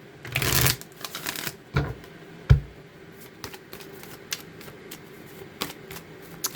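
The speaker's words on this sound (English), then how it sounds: "Get a good shuffle here." Tarot cards are shuffled in a few quick riffling bursts and sharp taps, close and fairly loud, followed by softer flicks and card handling in an otherwise quiet room.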